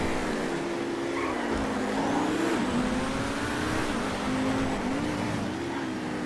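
A drag car's engine drones steadily through a class race in GTA FiveM, a loud continuous whine that holds with slight pitch wobbles and no clear gear changes, with no talking over it.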